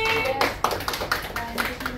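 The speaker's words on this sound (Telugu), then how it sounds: "సో క్లాప్స్ కొట్టండి" A class of children clap their hands together in a classroom, a burst of scattered, overlapping claps with a few sharper taps, close by and moderately loud, with voices mixed in.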